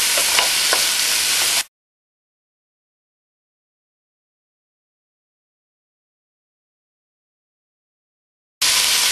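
Beef sizzles and browns in a pot for a beef barley stew, with a steady crackling fry at the start that cuts to a long stretch of silence and then returns briefly at the end.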